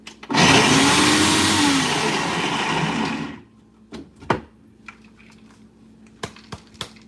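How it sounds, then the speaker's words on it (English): A kitchen blender chops ingredients on a slow setting, roaring loud and steady for about three seconds before cutting out, followed by a few scattered light clicks and knocks, with no talk. "I'm gonna just blend some of it slowly, guys."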